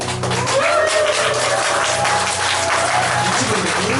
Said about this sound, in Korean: 이번 곡은 여러분들이 박수 함성을 많이 해주셔야지 드럼 연주가 시작이 돼가지고 곡이 시작되는 곡인 거